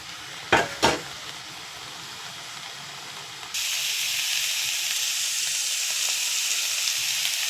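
Boiled potatoes and cauliflower frying with spices, a couple of sharp scraping bursts early on, then a sudden loud, steady hissing sizzle that carries on evenly to the end with no voices.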